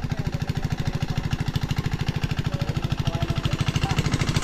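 A diesel engine pumping irrigation water for a rice field runs steadily with a rapid, even chugging pulse, close and constant throughout.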